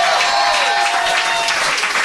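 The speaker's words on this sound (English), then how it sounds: "Everybody clap." A live podcast audience gives a brief burst of loud, close applause, dense overlapping claps filling the room with a faint tonal hum beneath.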